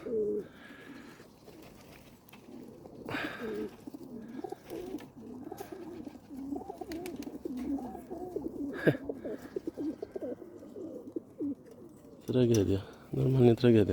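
Domestic pigeons cooing softly and repeatedly in low, throaty rolls, with people talking nearby and a burst of louder voices toward the end.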